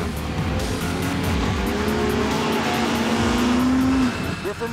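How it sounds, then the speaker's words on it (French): Modified cars and pickup trucks revving hard as they race through mud puddles at a mud festival in South Carolina, a loud sustained engine roar that climbs in pitch for several seconds before cutting off abruptly. "500 amateurs de gros bolides se retrouvent ici en Caroline du Sud pour rouler très vite dans des flaques de boue"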